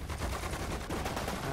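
Dense gunfire from the Sudden Strike 4 war strategy game, a continuous loud rattle of overlapping shots with no pause.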